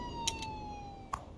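An ambulance siren from a SAMU emergency van in the city-building game Cities: Skylines 2. A faint, steady wailing tone is heard, with two brief sharp clicks layered on top.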